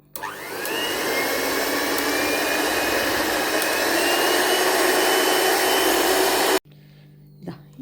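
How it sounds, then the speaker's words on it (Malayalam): An electric egg beater whirs loudly and steadily through egg and rice batter for several seconds, then cuts off abruptly into quiet room sound. "ഒരു എഗ് ബീറ്റർ വെച്ചിട്ട് നമുക്കിതിനെ ബീറ്റ് ചെയ്തെടുക്കാം."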